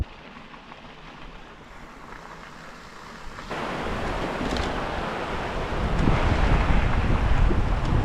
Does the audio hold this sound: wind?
yes